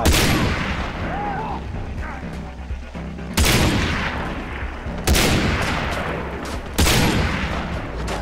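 Loud bursts of gunfire from enemy-killing combat in the video game Far Cry 3, with repeated heavy volleys roughly every one to two seconds over a constant dense rumble of battle.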